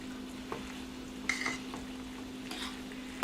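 Mac and cheese with melted pepper jack stirred in a pot, with soft scraping and a few clacks of the spoon over a gentle sizzle and a low steady hum.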